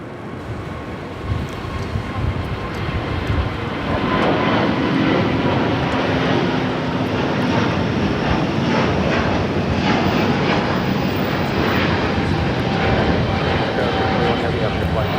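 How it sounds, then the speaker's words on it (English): An ITA Airways Airbus A350-900 takes off from Los Angeles bound for Rome, its jet engines building from a lower rumble into a loud, sustained roar that holds steady with a faint high whine on top. "this is ITA Airways 621 taking off to Rome, Italy on the A350-900"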